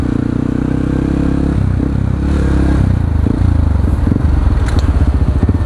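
Yamaha WR155R motorcycle at speed with the engine held in high gear, a loud, steady droning rumble mixed with rushing wind noise, continuous and close throughout.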